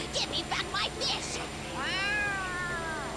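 A cat meows in the video game Yakuza: Like a Dragon, giving one drawn-out, rising and falling meow near the end, preceded by short game voices and effects over a steady background hum.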